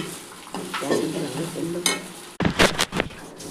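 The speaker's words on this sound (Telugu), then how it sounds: "ఇంగువ, వేగించి వేసుకున్న కరివేపాకు రెబ్బలు వేసి మళ్ళీ సిమ్లో గ్యాస్ వెలిగించాలి." Asafoetida and fried curry leaves going into a simmering pan on a gas stove, a soft sizzle with stirring sounds, then a louder burst of sizzling and spoon scraping near the end, with a voice faintly in the background.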